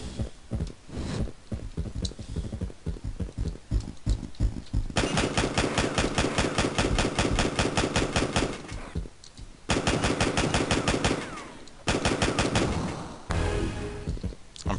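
Rapid gunfire from the video game Backtrack, with bursts of automatic fire and single shots broken by short pauses, then long sustained volleys, loud and alone with no talk.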